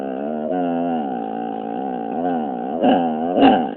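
A pitbull growls and vocalizes in a long, wavering, drawn-out moan that rises and falls like talking, loud and close, ending with two sharper, louder yelps.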